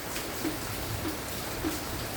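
Steady, light afternoon rain falls at home, a soft continuous hiss with a few faint drops standing out, no voices.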